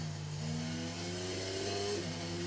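A Formula 1 race car in F1 22 revs up after braking, its engine note climbing steadily in pitch, loud and close with no talk.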